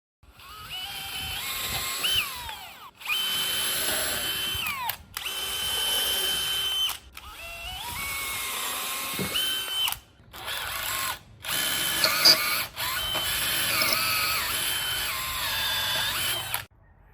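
Power drill boring a hole for a DIY pull land planer for a sub compact tractor, several whining bursts that rise and fall in pitch, separated by short pauses, close and alone.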